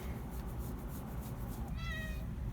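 A cat lets out a clear meow near the end while playing with catnip, over a low rumbling background close to the microphone.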